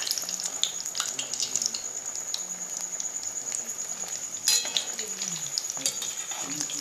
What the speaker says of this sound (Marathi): हे आपण असं झाऱ्यामध्ये ठेवून असं तळायचं